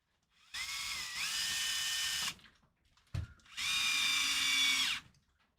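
A handheld power drill bolts a part onto a crawler build in two strong whirring bursts, each about one to two seconds long. A short clunk falls in the pause between them, and nobody speaks.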